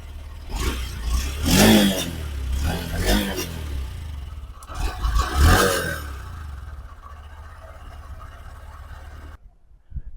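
Close by, a Honda SP125 motorcycle engine revs in two strong bursts over its running idle, then settles back before cutting off abruptly.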